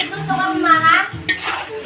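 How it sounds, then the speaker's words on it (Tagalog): Pork and heart sizzling in a hot pan for Kapampangan igado while a utensil stirs and scrapes against metal, close up, with a brief clank near the end. "So, medyo prito-prito lang po natin ito ng konti."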